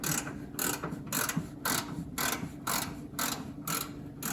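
Ratcheting wrench clicks come in quick bursts while an oil pan bolt is loosened on a 1929 Model A Ford, close but fairly quiet, with no voice.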